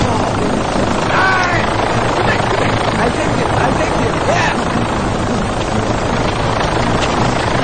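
A helicopter flying in India gives a continuous, loud rotor drone that stays even throughout, with faint voices and brief whistling sounds mixed in.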